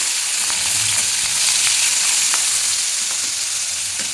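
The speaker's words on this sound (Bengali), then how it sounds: "ইলিশ মাছগুলো তেলের মধ্যে ছেড়ে দিচ্ছি।" Hilsa fish pieces just dropped into hot oil fry with a loud, continuous sizzle and scattered pops and crackles, close up and steady with no voices.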